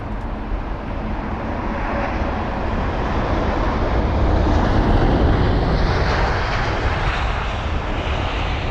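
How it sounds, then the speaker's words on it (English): A United Boeing 787-9 Dreamliner lands at London Heathrow, its broad engine roar swelling steadily and staying loud and close throughout, with no talking over it. "We've got the United 7878 Dreamliner. In fact, no, it's the 9 Dreamliner."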